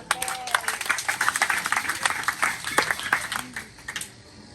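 A church congregation claps and applauds in praise, a dense crowd of sharp handclaps lasting several seconds before thinning out, with a few voices mixed in.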